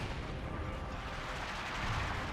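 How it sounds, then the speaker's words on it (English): An artillery barrage in Company of Heroes 2 rumbles as dense, continuous booming and crackle, with overlapping distant impacts forming a steady roar. "After all, the artillery barrage most of the time is not necessarily meant for devastating artillery."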